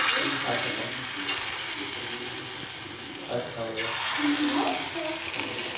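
Pea pod peels fry in very hot oil over a medium-low flame, a constant soft sizzle and crackle running beneath a person speaking.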